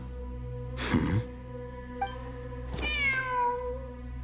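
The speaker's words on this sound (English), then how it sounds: "The cat!" A cat meows in the video game Genshin Impact during a ruins exploration event: a short cry followed later by a longer rising, wavering meow, heard alone over a soft game music bed.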